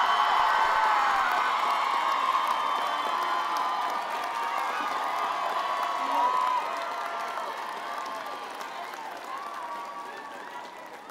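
The class of 2022 graduates at a Drexel University College of Arts and Sciences commencement ceremony cheer and applaud, a steady wash of crowd noise with whoops that tapers slowly over several seconds.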